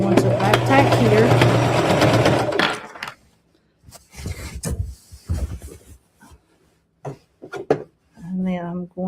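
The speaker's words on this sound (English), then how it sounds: "I'm going to back tack here" A sewing machine back-tacks through a rag quilt, a steady close mechanical whir for a few seconds, then stops, followed by handling noises, someone talking, and a brief restart of the machine.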